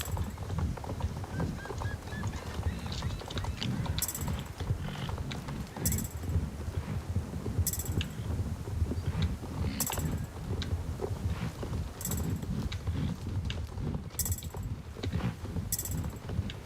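Hooves clatter steadily in Star Stable Online as a horse gallops, a soft repeating clip-clop under game ambience, with faint chime-like accents recurring every couple of seconds.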